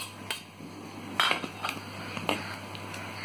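Utensil scraping and clinking in a pot of taro and pumpkin leaf curry, a few separate knocks and scrapes over a steady low hum, moderately close and fairly quiet.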